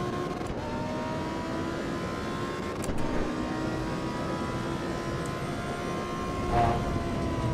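Porsche race car engine in the Assetto Corsa EVO racing game, a steady, droning whine holding at high revs without letup, with faint shifts in pitch as the car runs flat out.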